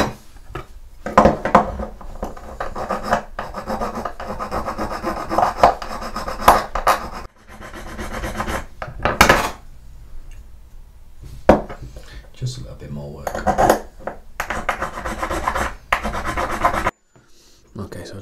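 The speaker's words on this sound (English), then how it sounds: "So I think the best thing to do is obviously just to sand off the little nibs." Sandpaper rubs nibs off plastic parts of a 1/250 scale Yamato model ship in close, repeated scratchy strokes of varying length, broken by short pauses and a few handling knocks.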